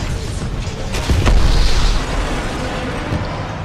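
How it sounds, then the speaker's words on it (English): A deep, booming explosion in the video game Titanfall 2 bursts out for about a second over a steady background rumble, then fades back to the ambient din. "Cool guys don't look at explosions."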